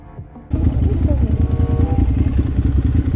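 After a brief quiet moment, a Ducati motorcycle engine starts up loud and close, idling with a rough, throbbing rumble.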